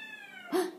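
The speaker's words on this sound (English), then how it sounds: "That's my cat." A pet cat gives a single short, close meow at the end of the moment, heard over a faint, steady electronic hum in a quiet indoor room.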